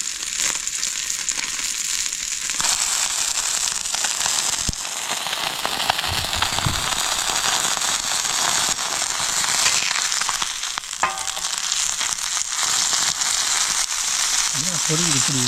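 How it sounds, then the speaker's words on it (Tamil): Wet river-caught fish crackles and pops sharply in hot frying oil, close up, with dense irregular bursts and sizzling throughout. "ஈரமாக இருக்குன்னு நினைக்கிறேன், இந்த வெடிக்குது."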